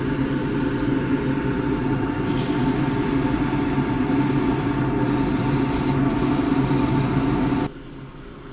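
A turned wooden drawer knob sanded with 180 grit paper on a spinning lathe gives a continuous rough rubbing whir over the motor hum, steady and close, then drops abruptly near the end.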